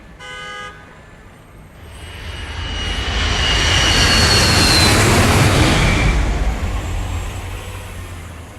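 A fixed-wing airplane engine in the Moebius: Empire Rising video game, heard after a short horn toot as a loud drone that swells, peaks and slowly recedes.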